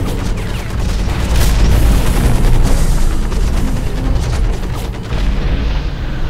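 A rocket blast in the mech combat game Hawken: a loud, sustained booming rumble that swells and rolls on for several seconds before easing slightly.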